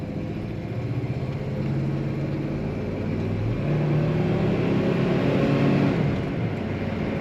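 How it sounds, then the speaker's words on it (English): A 1972 Chevrolet Monte Carlo engine revs steadily and climbs in pitch as the car accelerates through automatic transmission shifts, with a continuous rumbling drone and no voices. "Plenty of power, nice firm shifts, and the kickdown is working on that automatic transmission."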